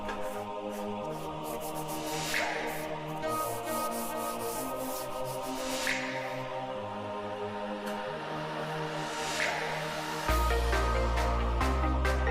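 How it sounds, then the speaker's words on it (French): Wood on a veranda is sanded by hand with fine-grit sandpaper, grit 120 or 180, producing soft, repeated rubbing strokes at a quiet level, with a steady tonal hum in the background and a louder shift near the end. "Utilisez ici du papier abrasif à grains fins, comme du grain 120 ou 180, pour ne pas faire de rayures dans le bois."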